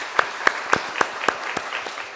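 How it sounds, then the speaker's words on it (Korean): A church congregation claps in thanks for the men who disinfect the building each week, a handful of distinct claps in a steady rhythm, moderately loud, thinning toward the end. "이분들을 위해서 감사의 박수를 함께 올려드리도록 하겠습니다"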